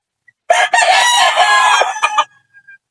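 A labuyo jungle fowl line fighting cock gives one loud, close crow lasting about two seconds, ending in a short trailing note, with no talk.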